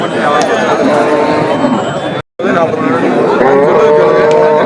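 Loud, repeated cattle moos over a busy crowd murmur and chatter at the Pavoorchatram cattle market, with a brief dropout in the middle.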